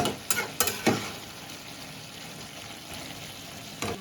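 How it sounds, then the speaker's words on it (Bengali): Spoon scraping and stirring shim (flat bean) curry in a pan, a few clustered knocks early and one near the end over a steady low sizzle. "খুলে নাড়াচাড়া করে দিচ্ছি"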